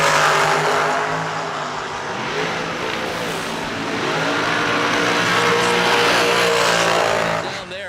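Drag racing cars launching and roaring down the strip at a fall bracket racing event, a loud continuous engine blast with rising revs, steady and close throughout with no quiet gaps.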